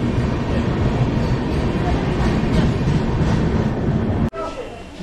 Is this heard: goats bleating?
no